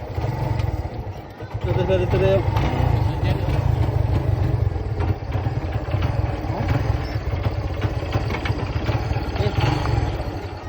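A motorcycle engine runs close by at a family reunion, a steady low rumble with clatter throughout, while people talk nearby.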